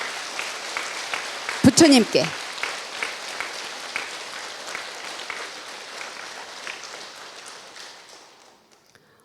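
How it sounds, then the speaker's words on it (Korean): A temple congregation applauding for the Buddha on Buddha's Birthday, a dense wash of many hands clapping from a crowd, swelling early, then slowly fading over several seconds, with a voice speaking over the start. "박수 한번 크게 부처님한테 쳐드리세요."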